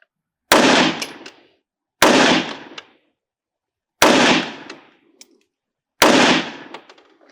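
Four loud, sharp pistol shots from a Springfield Armory Echelon 4.5F Comp fired with a hot barrel, spaced about two seconds apart, each cracking hard and then ringing out briefly on an outdoor range.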